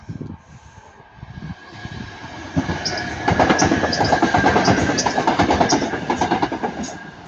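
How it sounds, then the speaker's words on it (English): Northern Class 323 electric passenger train passing at Ardwick, a rumble that builds to a loud rhythmic clatter of wheels over rail joints, with a high whine above. "now it's going to be Northern Class 323 going from Manchester Piccadilly to Stoke-on-Trent"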